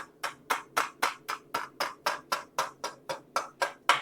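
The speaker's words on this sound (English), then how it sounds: "This is the heaviest hammer I have ever attempted to use for chasing purposes." A heavy hammer strikes metal in a steady, even rhythm while chasing a ladle, about fifteen close, sharp blows in four seconds, each with a brief ringing tail.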